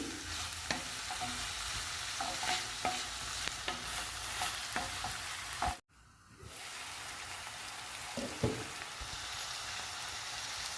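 Ginger garlic paste sizzles in a frying carrot and capsicum curry, a steady hiss broken by stirring taps, with a momentary dropout midway before the frying resumes.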